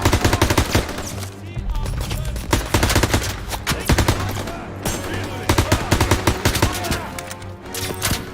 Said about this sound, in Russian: Пулемет на втором этаже!